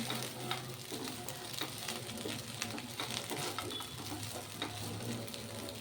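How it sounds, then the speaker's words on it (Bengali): Flattened rice pulao being stirred in a pan, a steady soft sizzle with light scraping strokes throughout, close and continuous with no talk. "হালকা হাতে নাড়তে হবে যাতে চিড়ে ঘেটে না যায়"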